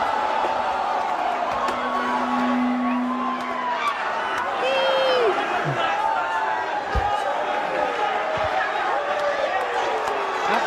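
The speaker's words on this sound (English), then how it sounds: "What the women are shrieking in glee." A wrestling crowd roars throughout, with women shrieking and cheering in high, rising cries over the steady din, while someone talks over the noise.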